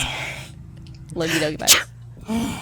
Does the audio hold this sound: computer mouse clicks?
no